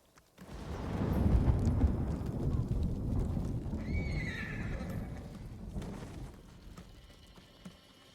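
Horse neighing and whinnying with clip-clopping hooves in a samurai-era open-world video game, a loud whinny rising midway over steady hoofbeats and a dense low rumble of game ambience.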